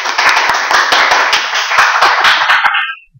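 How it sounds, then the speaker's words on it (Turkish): Brisk, close clapping from a small audience during a programming class, a dense rapid patter of hands that stops abruptly after about three seconds. "bir alkış alıyoruz."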